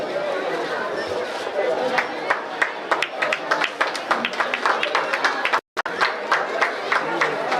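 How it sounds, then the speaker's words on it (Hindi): Audience clapping in welcome at a village-level Chhattisgarhi Olympics event, a steady patter of many hands with crowd chatter underneath and an announcer's voice over it, cut by a brief dropout near the end. "और इस तरह से ताली बजाकर अभिनंदन स्वागत करते हुए हमारे राजीव अनुदान के सभी सदस्य"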